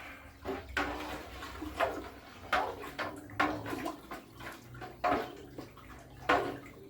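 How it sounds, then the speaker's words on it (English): A stick stirs about two gallons of water heating in a pot over a gas flame, making repeated sloshing swirls and soft knocks against the pot at a steady rhythm, close and fairly quiet. "There's my stirring stick. Let's get this melted."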